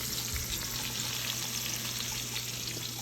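Steady, close sizzling and crackling of chicken frying in hot oil, a continuous bubbling hiss with no voices.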